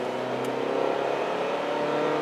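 Hyundai Sonata Hybrid engine revving steadily after a manual downshift to second gear, a continuous mid-pitched hum and drone heard from inside the car, fairly loud and even throughout, with no talking.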